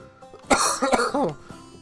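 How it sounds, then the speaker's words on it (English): Someone close by with a bad cold coughs several times in a short, harsh burst, with a bit of throat clearing mixed in. "You may hear me coughing a lot"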